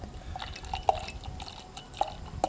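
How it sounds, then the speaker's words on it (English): Samuel Adams Fat Jack, a strong 8.5% dark amber ale, poured partway into a glass: soft liquid gurgling and fizz with a few distinct bright drips and splashes, close and fairly quiet. "So I'm just going to pour a partial glass"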